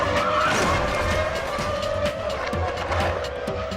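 Formula 1 cars of the 2006 season race and tangle in a crash involving a Ferrari, with a steady engine roar and squealing, skidding tyres, loud and continuous, no voices.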